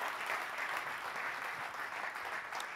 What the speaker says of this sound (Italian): facciamo un, un applauso a SM Real Estate